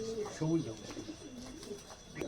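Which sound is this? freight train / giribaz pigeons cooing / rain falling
giribaz pigeons cooing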